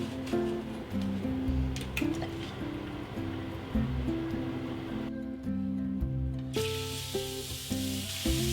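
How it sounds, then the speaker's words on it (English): Shrimp sizzle in a little oil in a cast iron skillet, a steady close crackle and hiss, with quieter music running underneath. "I'm cooking my shrimp on my cast iron skillet with just a little bit of oil"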